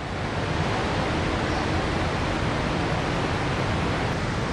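A blue river pours over a drop in the Chiapas jungle, churning into white foam; a steady, dense roar of rushing water fills the whole clip without a break, loud and close.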